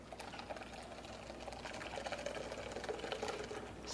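Homemade raw sesame milk is poured through a strainer, making a steady, textured liquid rush that holds evenly for about four seconds with no voices.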